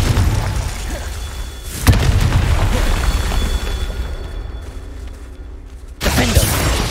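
The Confringo fire spell in Hogwarts Legacy bursts in two loud, sharp explosive booms, each followed by a rumbling tail and a faint background hum.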